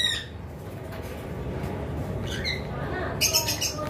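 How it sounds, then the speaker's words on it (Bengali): A pair of yellow-sided conures gives a few brief, sharp squawks, mostly around the last second and a half, over a constant hum of background noise in an aviary setting. "নিচে এক পেয়ার ইয়েলো সাইডেড কোনর রয়েছে, দেখতে পাচ্ছেন"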